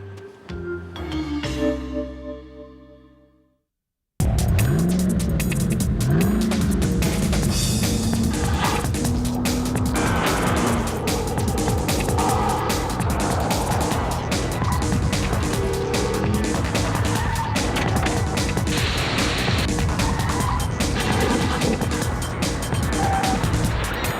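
A short musical sting gives way to a loud, continuous burst of engine roar and squealing tires from a 2002 Mazda Protege5, busy and dense throughout.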